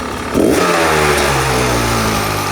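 A 2025 Beta 250 RE two-stroke dirt bike, not yet warmed up and with its gas tank just sitting on it, roars up close into loud, sustained high revs after a short quiet start, holding a steady buzzing pitch to the end.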